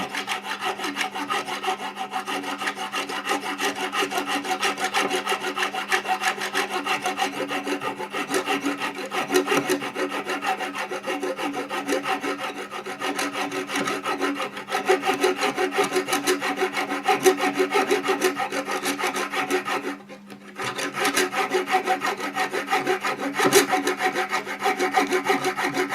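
A blade saws through the wooden side panel of a cabinet during a broken-hinge repair, making a steady, close rasping scrape that runs almost unbroken for the whole stretch, with one brief pause, and no talking.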